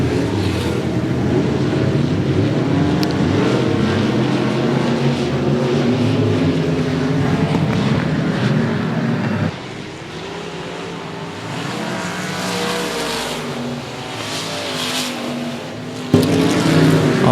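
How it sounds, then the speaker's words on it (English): Limited modified race cars with IRP chassis roaring around the 105 Speedway track during a race, a loud continuous engine drone with cars passing, shifting intensity midway, no talking. "He's also in an IRP race car."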